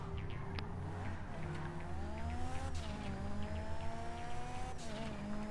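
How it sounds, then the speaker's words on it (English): Car engine in GTA Online droning steadily with shifting revs, tire noise and brief skids, continuous and fairly loud with no talking. "where is this car going?"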